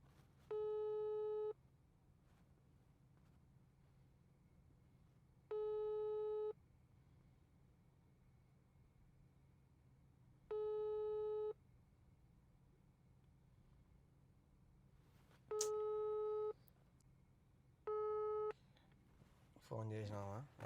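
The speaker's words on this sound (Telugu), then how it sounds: "ఫోన్ చేసినావా ఎత్తలా" A phone call goes unanswered, heard through the handset as a series of evenly spaced, steady electronic tones, each about a second long. The tones play over quiet background hiss, with faint voices near the end.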